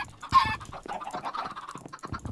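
A run of close Minecraft chicken clucks, opening with one loud squawk and then a steady chatter of quicker, softer clucks lasting a couple of seconds, with no voices.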